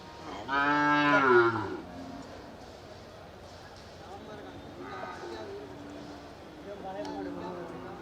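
Cattle low with a loud, drawn-out moo at Manapparai cattle market, followed by quieter livestock sounds and murmuring voices of traders in the background.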